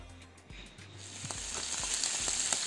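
Paprika cooking in a little oil, a soft sizzle that builds steadily and grows brighter over a few seconds, with light scattered taps from a utensil near the pan.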